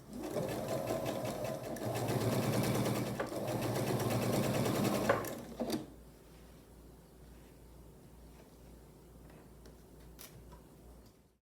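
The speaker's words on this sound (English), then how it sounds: "I'll take these to the sewing machine and I'll sew 1/4 inch seam allowance right down here on each of my 4 patches." A sewing machine runs steadily for about five seconds, stitching quarter-inch seams on quilt block patches, then stops abruptly, leaving a quiet room with a few faint clicks.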